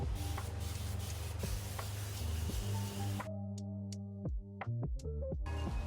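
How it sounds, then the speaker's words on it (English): Repeated short hisses of a spray bottle misting water onto planted seeds, steady bursts over a constant background hum, then a few softer sprays and light handling clicks. "And then spray some water."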